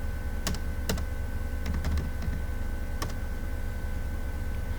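Typing on a computer keyboard while entering a network command on a PC, a few sparse, crisp key clicks in short bursts over a steady low hum, no talking.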